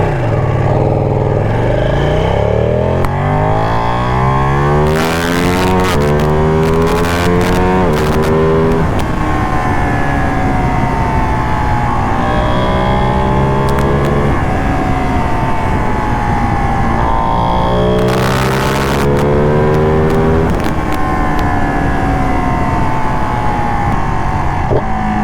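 A Ducati Panigale 959 sportbike in sport mode revs hard through the gears, its engine note climbing in repeated rising sweeps with sharp shifts between them, loud and close over steady wind rush.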